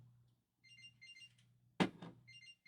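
A watch alarm going off, repeated high electronic beeps in short bursts over a low hum, interrupted by a sudden thump as it is handled, then the beeping resumes quietly.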